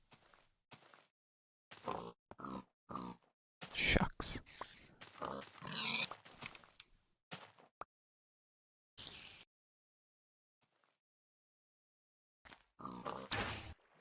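Pigs in the video game Minecraft grunting in short separate bursts, loud and close, mixed with someone talking at times and some silent gaps.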